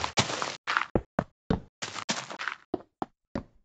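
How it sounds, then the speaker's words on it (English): Short, blocky thuds and crunchy scrapes from classic Minecraft, the block-breaking and footstep effects replayed one after another at differing loudness and pitch, each a brief dry burst separated by silence. "These sounds are played when you break a block, or an entity walks on a block."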